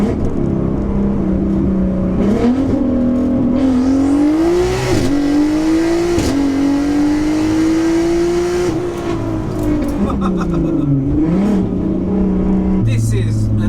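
A 900bhp 3.2-litre turbocharged Audi A3 accelerates hard, its engine note climbing and holding in a loud, sustained pull with gear changes along the way, while people talk in the cabin over it.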